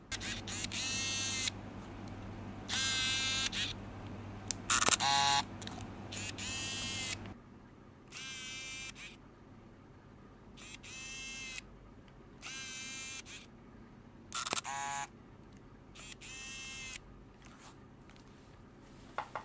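Ricoh GR1V compact 35mm film camera firing its shutter repeatedly, a series of short mechanical clicks and film-advance whirs spaced a second or two apart, close and clear with no talking.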